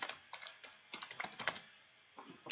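Fingers tap quickly on a computer keyboard in a quiet room, a few short bursts of close clicky keystrokes separated by brief pauses.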